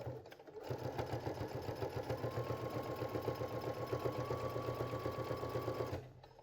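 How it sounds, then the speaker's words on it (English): A Baby Lock sewing machine runs a straight stitch through fabric with a metal roller foot, giving a steady, rapid mechanical whir and needle clatter close up for about five seconds before it stops. "I've chosen a straight stitch in a left needle position. And what this is going to do is I'm stitching down this fabric."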